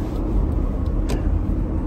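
Car driving along a road, a steady close engine and road rumble with faint traffic noise, loud and continuous with no talking.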